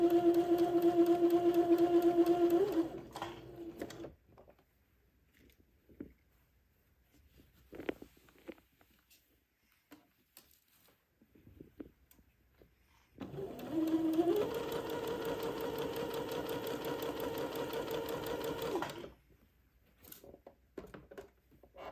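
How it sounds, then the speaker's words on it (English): A domestic sewing machine stitches a placket on a Christmas bishop dress in two steady, whirring runs, each several seconds long, with a quiet pause of small handling sounds between them. "And begin to sew."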